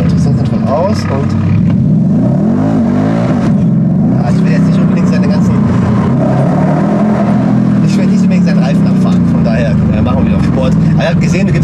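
A Mercedes C63 AMG W204 with a 6.2 litre V8, stage 3 tune and IPE headers, accelerates with traction control off, its loud deep engine note rising and falling in pitch under continuous talk from occupants.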